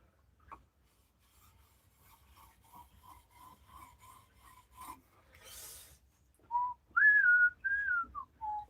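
A bowl carving tool is being sharpened to raise a burr on the inside edge, a series of short, quiet rasping strokes followed by louder scraping, whistling-toned passes.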